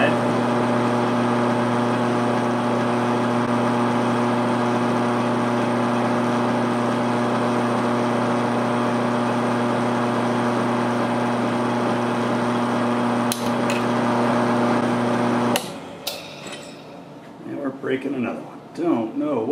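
A Tapmatic tapping head cuts threads into titanium knife handle slabs at 150 RPM, a loud, steady mechanical drone that runs continuously for about fifteen seconds before stopping abruptly, leaving quieter shop noise.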